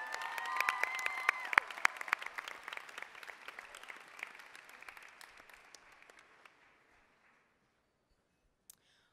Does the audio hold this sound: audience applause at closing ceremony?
yes